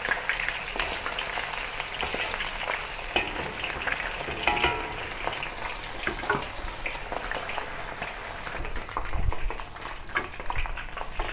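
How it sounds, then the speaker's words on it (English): Squid rings coated in corn flour bubble and crackle in medium-hot oil in a steady, dense deep-fry sizzle, with occasional louder pops and spatters, close and continuous, for a salted egg squid dish, with no talking. "Now heat the oil to medium and deep fry the squid"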